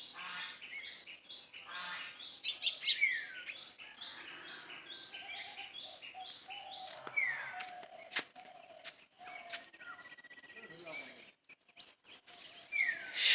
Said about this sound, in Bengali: পাখিগুলো ডাকছে দেখেন